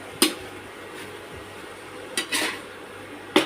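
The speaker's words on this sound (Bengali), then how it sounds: "সুন্দরভাবে নেড়ে দিচ্ছি।" Shrimp stirred in a pan for coconut prawn curry, a few sharp scraping clinks of a spoon against the metal pan, spaced irregularly over a faint background hiss.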